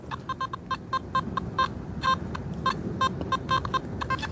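A metal detector sweeping over a buried coin at night gives a series of short, clipped electronic tones in an irregular rhythm, heard over a steady background rumble.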